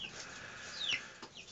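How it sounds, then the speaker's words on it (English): Golden lace and silver lace Wyandottes and black Australorps in a naturally lit chicken coop, giving faint, brief clucks and a short high squawk over a quiet hiss, with no talking. "golden lace Wyandottes and some silver lace Wyandottes and some black Australorps. And this is my chicken coop."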